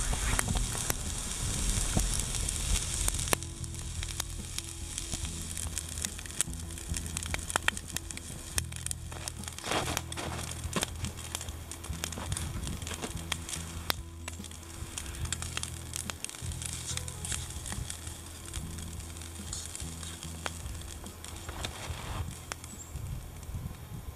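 Rice, beef and corn sizzle in a pan set directly over a campfire, a steady close crackling hiss with faint popping that runs unbroken throughout.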